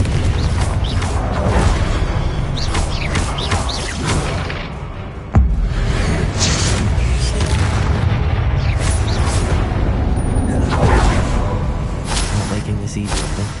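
In the Hogwarts Legacy video game, a Confringo spell is cast, producing a booming fiery burst amid dense game music and effects, with a sharp impact midway through.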